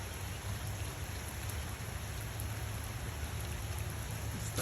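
Heavy rain pours steadily and close by on a rainy day, a dense, unbroken hiss that holds at an even level throughout with no voices.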